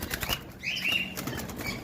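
Pet birds, including cockatiels, pineapple conures and lovebirds, flap their wings in a cage close by, with a quick burst of fluttering wingbeats and a faint chirp, loud and near.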